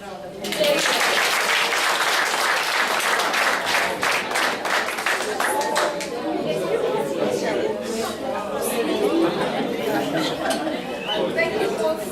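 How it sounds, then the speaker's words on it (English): An audience at a talk breaks into applause, strong at first and then thinning into scattered claps mixed with crowd chatter and murmuring voices. "he deserves another round of applause"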